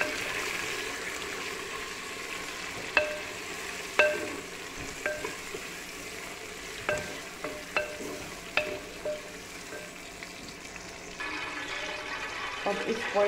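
Tomatoes fry in a pan for dal makhani with a steady soft sizzle, broken by sharp clinks and scrapes of a spoon stirring at irregular intervals, close by.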